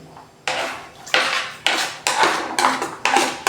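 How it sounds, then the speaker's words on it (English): Onions and sweet pepper are tipped into a pot of beef, making a run of about seven sharp clanking, scraping knocks against the pot in a steady rhythm, close and fairly loud, with no speech. "Remember, I had some onions and sweet pepper. So we're going to put it in."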